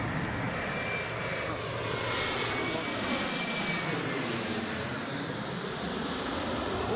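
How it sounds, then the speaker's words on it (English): A passenger jet's engines roar steadily at Newcastle International Airport, a loud, sustained whine and rumble with no talking. "sounds like Jet 2's ready to go."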